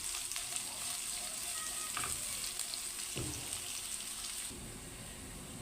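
Onions frying in oil in a pan make a steady, close sizzle with a few stirring clatters along the way. The hiss drops lower near the end, and no one talks.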